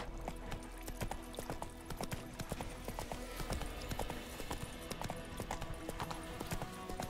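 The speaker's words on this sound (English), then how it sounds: "Whoa there, Roach" The horse Roach gallops in The Witcher 3 video game, its hooves clip-clopping in a fast, steady rhythm that stays close and clear throughout.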